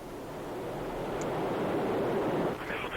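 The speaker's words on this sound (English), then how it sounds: "Boosters igniting, the engines firing." A Soyuz rocket's boosters and engines ignite at launch with a broad, steady, rushing roar that swells and holds, heard from a distance.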